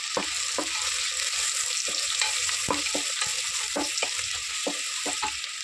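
Onions sizzle steadily in hot oil for a Telugu country chicken curry, with a spoon scraping and stirring the pan in regular strokes, close and clear with no talking.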